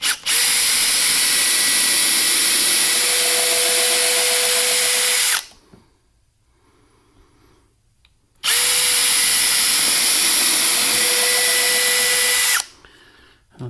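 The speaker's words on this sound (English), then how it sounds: "going to drill a few pilot holes here." Power drill boring pilot holes into wood on a Pelican Bass Raider boat while fitting pole holders; two loud, steady whining bursts of about five seconds each, separated by a quiet pause.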